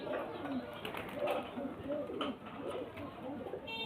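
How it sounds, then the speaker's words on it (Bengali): A male and female pigeon pair coo close by in a series of low, rounded, repeated coos, fairly faint over a muffled indoor background with a voice talking underneath. "এটা নর পায়রা আর ওরই মাদা পায়রা এইটা আছে"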